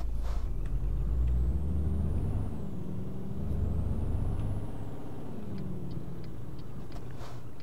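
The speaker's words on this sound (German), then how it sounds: "LKW brummt." A truck in Euro Truck Simulator 2, pulling a UPS trailer on wintry roads, rumbles low and steadily, with a brief airy hiss and faint high chirps above the engine drone.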